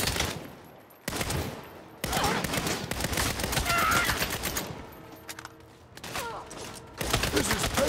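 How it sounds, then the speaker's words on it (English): Gunfire in the Saints Row game: rapid automatic bursts and fusillades crackle in repeated loud blocks separated by short lulls, close and dense, with a brief mechanical sound amid the shooting. "Fine shooting."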